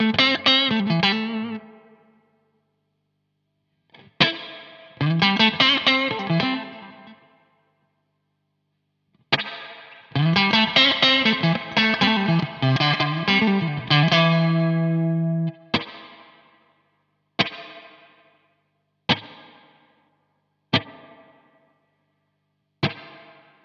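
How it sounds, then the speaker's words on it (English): Electric guitar through a Strymon BigSky pedal on spring reverb with the tone turned all the way down, picked notes and chords washed in dark springy reverb, then a run of single plucked notes with silent gaps between. "So we'll turn the spring reverb on. We'll start on the BigSky."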